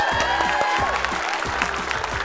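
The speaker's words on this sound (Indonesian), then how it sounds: "Tepuk tangan yang sangat meriah" An audience, prompted by an Indonesian-speaking emcee, claps for celebrities Ruben Onsu and Sarwenda in a dense burst of applause, steady and lively for a couple of seconds, with a faint electronic hum behind it.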